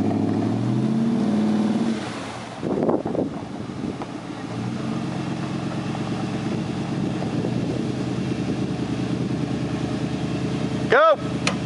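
A Chevy Silverado 1500 with a 6.2 engine revs hard up close while pulling a stuck Ram 2500 free. The engine roars briefly, then settles into a sustained rumbling drone as voices talk and shout over it.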